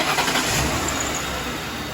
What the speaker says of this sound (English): It's time to start the car, let it get up to full operating temperature